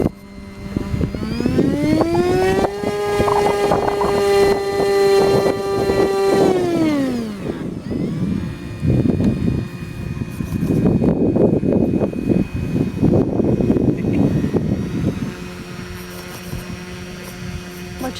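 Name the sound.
brushless motor and propeller running on Aerobird Extreme model plane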